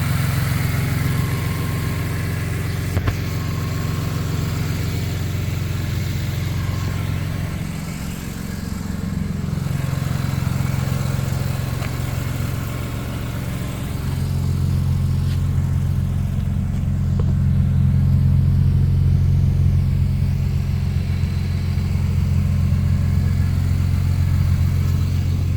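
A 1989 BMW E30 325iS with a swapped-in S54 engine and E46 six-speed manual idles with a steady, loud low rumble, then revs up and settles a couple of times, heard up close with no talking.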